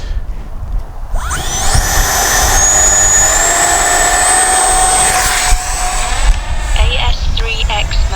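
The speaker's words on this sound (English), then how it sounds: "What an easy flying little jet" An Arrows RC Viper 50mm electric ducted-fan model jet spools up into a loud, sustained high-pitched whine as it flies, the tone bending with passes and shifting near the end.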